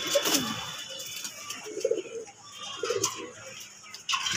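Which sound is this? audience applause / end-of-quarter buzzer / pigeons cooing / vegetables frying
pigeons cooing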